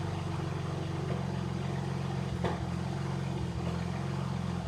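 A BMW N54 engine idles down with a misfire, giving a steady low mechanical hum with a faint uneven stumble in its rhythm, heard up close without talk.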